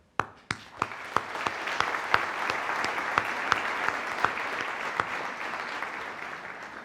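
An audience at a high school senior awards night breaks into applause. A few sharp opening claps quickly swell into sustained, full applause with scattered louder claps standing out, then ease slightly toward the end.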